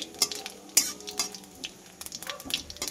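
Cumin, bay leaves and whole garam masala fry in oil with a soft, quiet sizzle, broken by sharp metal clinks and scrapes of a spoon stirring against the pan.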